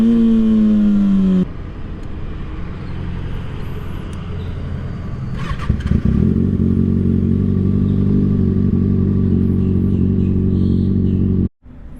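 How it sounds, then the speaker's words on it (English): Kawasaki Ninja ZX6R 600cc motorcycle being ridden, loud close engine drone that drops in pitch as it changes gear early, then settles into a steady lower rumble with clattery bursts, cutting out sharply near the end. "I'm gonna shift gears, make sure I let off the throttle, engage the clutch, shift the gear, and then let off smoothly and get back on the throttle."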